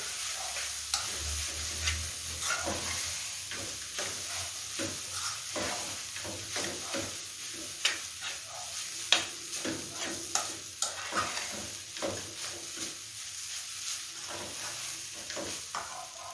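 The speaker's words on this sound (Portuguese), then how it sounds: "eu gosto de, de afogar os temperos primeiro, porque pega mais sabor" Seasonings frying in a pan while preparing a creamy cassava escondidinho, a steady close sizzle with repeated sharp ticks and scrapes of stirring throughout, no voices.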